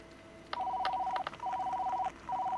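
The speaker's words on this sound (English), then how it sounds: "Oh, we're getting a phone call." A telephone rings in the VR game Job Simulator, in three loud, electronic, two-tone bursts separated by short gaps. There is no talking.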